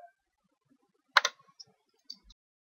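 A computer mouse clicks while a selection is made in Photoshop: one sharp, close click, then a few fainter scattered clicks in an otherwise quiet room.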